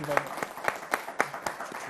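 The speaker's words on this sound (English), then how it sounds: "please give our author a round of applause" A small audience at an author event gives sparse applause, about seven distinct, fairly quiet claps spaced evenly and a speaker's voice heard at the start.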